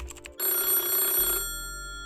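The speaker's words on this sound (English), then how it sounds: "The phone rings at Jacksonville Sheriff's Office." An old-style telephone bell rings loudly and close by in one short burst, then fades into a faint hum.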